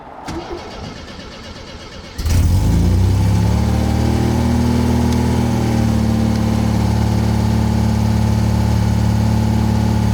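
A 1974 MGB with an electronic fuel pump is cranked from cold. Brief rhythmic starter churning gives way after about two seconds to a loud, steady, close engine idle with no talk.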